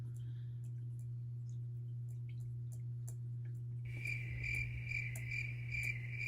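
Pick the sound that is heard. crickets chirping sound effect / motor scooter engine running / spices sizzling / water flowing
crickets chirping sound effect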